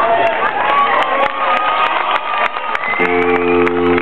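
Crowd at a folk music festival show cheering and shouting, a dense continuous roar of voices with scattered claps and whoops, followed by a sustained musical note near the end.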